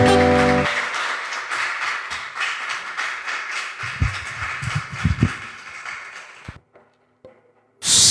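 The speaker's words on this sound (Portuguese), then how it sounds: "Aplauda mais uma vez, bem forte, em nome do Senhor" Congregation clapping loudly and steadily during a church service, a dense sustained wash of applause with a few louder claps near the end, then a brief cut to near silence before sound resumes.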